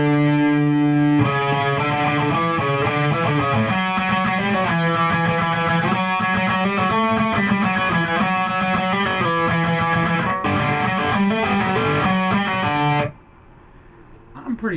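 Distorted electric guitar plays the picking parts of a song in a steady, busy run of notes, loud and close, then stops abruptly near the end.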